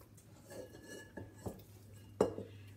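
Bowl set down and handled on a kitchen counter while being oiled with olive oil for proofing bread dough: a few soft knocks and one sharper clink, close and quiet, with no talk.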